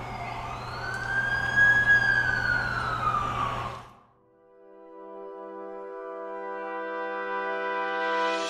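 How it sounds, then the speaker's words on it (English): An emergency siren wails steadily for about four seconds, close and prominent, then cuts out abruptly and gives way to sustained tonal music. "That's the ambulance I called."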